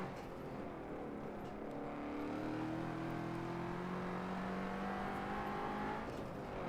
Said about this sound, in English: Hitting limiter, but I have to brake to go into this corner